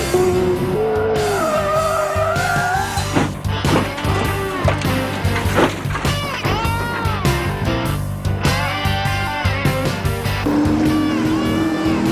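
Race car engines at a motor racing endurance event as a car spins out on track, with wailing engine notes rising and falling in pitch, sustained and loud throughout.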